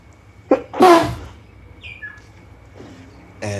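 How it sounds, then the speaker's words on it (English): A single man's sneeze, a sharp breathy burst close to the mic, preceded by a short inhale, with faint quiet room tone and a brief rustle afterward. "I have to sneeze real quick."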